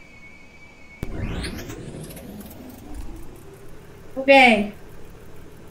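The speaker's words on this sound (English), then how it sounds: "Start the engine." A car engine cranks to life and settles into a steady idle, with people chatting over it and a brief louder burst of voice near the end.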